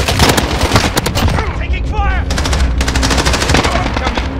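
An AN-94 rifle fires in Modern Warfare on PS5 as loud, close rapid bursts of automatic gunfire, with a brief pause partway through, mixed with other battle noise and a voice calling out.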